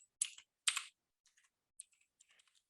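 Keys clatter on a computer keyboard in short bursts, two quick louder runs followed by sparse, softer single taps, close and quiet with silence between strokes and no voices.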